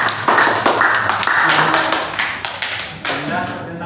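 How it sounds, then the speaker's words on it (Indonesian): Applause for a presenting group at a school teacher-training session, a few seconds of close, loud clapping and tapping from a small crowd, with a voice briefly heard over it. "beri aplaus untuk kelompok"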